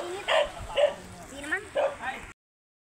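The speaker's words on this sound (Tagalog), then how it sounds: "Ang aso gustong sumama." A dog yips and barks on a beach at Calaguas Island, Vinzons, Camarines Norte, with four or five short, high bursts in quick succession over outdoor noise and nearby voices.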